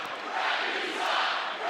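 A college basketball crowd at a UNLV at Utah State game yells and boos after a foul call, a loud and sustained roar of many voices filling the arena.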